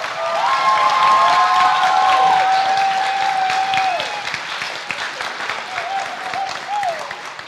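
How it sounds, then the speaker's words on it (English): An audience at a high school final concert applauds the graduating seniors, loud dense clapping with high cheers and whoops over the first half, then easing to lighter clapping with a few scattered shouts. "Let's give all the seniors a round of applause."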